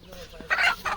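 A chicken offered as a prize at a village game gives a short burst of two clucks, close by and moderately loud, within a single second.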